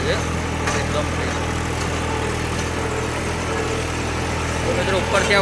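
Massey Ferguson 246 tractor running a Shaktiman rotavator, a steady mid-low engine drone with a constant harmonic hum, close and continuous throughout with a voice speaking intermittently over it.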